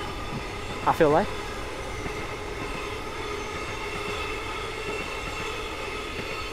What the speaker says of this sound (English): That's a train, alright? That's a train.